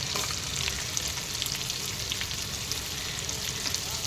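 Roughly chopped garlic and fenugreek leaves fry in oil, giving a steady, fairly quiet sizzling hiss with faint crackles throughout.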